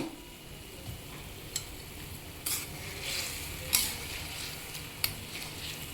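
Tamarind broth with green chillies, dried red chillies and curry leaves cooking in a pan for pulihora, a low continuous sizzle and simmer with occasional sharp clinks of a spoon, close by and without speech.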